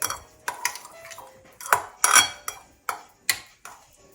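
Utensils clink and scrape against a dish as eggplant and cauliflower are mixed, about eight sharp metallic knocks in an uneven rhythm, close and fairly loud with no talk.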